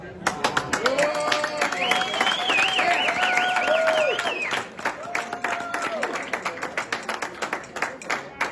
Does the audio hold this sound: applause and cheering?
yes